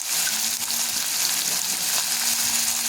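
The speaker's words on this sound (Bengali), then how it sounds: "এই দেখুন, একটু নাড়িয়ে চাড়িয়ে লাল লাল করে এগুলোকে ভেজে নিতে হবে।" Pieces frying in oil with salt and turmeric for sour spinach, a loud steady hiss of sizzling close by with faint stirring movement underneath and a low hum throughout.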